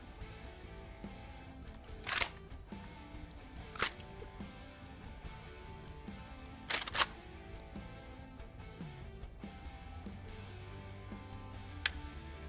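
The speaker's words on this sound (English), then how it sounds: "Rack the bolt. Pull the trigger." Bolt of an AKM rifle racked and trigger pulled in Gunsmith Simulator, a game, heard as a few sharp metallic clacks and snaps spaced over several seconds over a steady low background hum.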